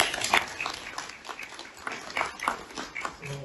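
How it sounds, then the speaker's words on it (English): An audience at a stakeholder gathering gives itself a round of applause, a faint, scattered patter of clapping with soft background sound underneath. "I want you to give yourself a round of applause"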